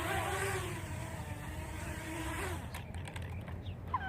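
The electric motor of a Xinlin X181 Navigator X6 RC plane is punched to full throttle outdoors: a thin rising buzz that swells for a couple of seconds and then drops away, faint and distant over a steady background rumble.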